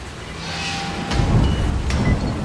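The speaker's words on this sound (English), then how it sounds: "Oh, it's raining." Rain pours steadily in the video game Dying Light, with a deep rumble of thunder building and rolling in near the middle and carrying on under the downpour.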